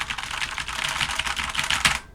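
Rapid, steady typing on a mechanical keyboard with Cherry MX Brown switches, a dense run of close keystroke clicks continuing for about two seconds with no voice.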